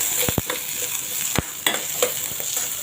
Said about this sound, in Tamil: வெங்காயம் போட்டுக்கணும்.